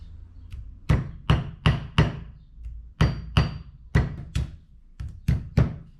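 Repeated sharp hammer taps on metal, a dozen or so in irregular clusters, each hit close and ringing briefly before the next.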